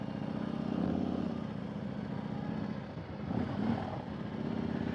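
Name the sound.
2021 Harley-Davidson Road Glide motorcycle riding off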